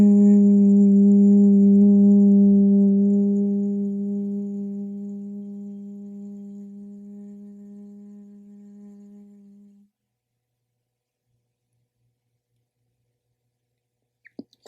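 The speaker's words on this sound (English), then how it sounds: "one humming bee breath here. Brahmari breath, the sound of an om" Sustained humming bee breath (Bhramari), a steady voiced om hum held alone during a yoga flow, loud at first and slowly fading over about ten seconds before silence.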